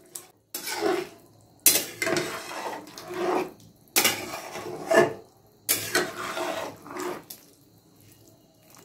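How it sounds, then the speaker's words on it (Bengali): Cauliflower Manchurian being stirred in a pan, with repeated bursts of metal scraping and clatter from a spoon against the pan in an uneven rhythm, separated by short pauses. "এবার এটাকে আমি নাড়াচাড়া করে নিচ্ছি।"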